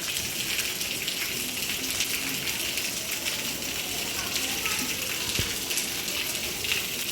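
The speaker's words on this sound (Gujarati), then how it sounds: "વરસાદ ચાલુ છે પણ થવાનું નામ નહીં રહે." Steady drizzling rain on a waterlogged road on a dark evening, a continuous even hiss throughout with no distinct drops standing out.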